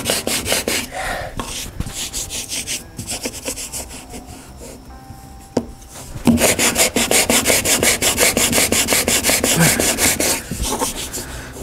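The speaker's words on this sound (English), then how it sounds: "So I'm going to keep sanding here." Someone hand sands a wooden arcade cabinet, making continuous rough rubbing strokes. A short quieter stretch in the middle gives way to fast, even, rhythmic back-and-forth scrubbing, close up and with no talk.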